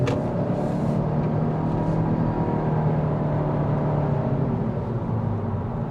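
Engine of a 2022 Honda Civic Touring sedan pulling hard on a road drive, a steady loud broadband drone and rumble inside the cabin that holds throughout without pause.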